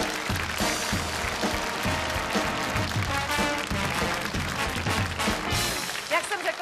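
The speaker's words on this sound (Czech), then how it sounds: "A my mu zatleskáme." Audience applause for a finalist on a TV game show, a loud continuous wash of studio clapping mixed with a rhythmic music bed, carrying on throughout.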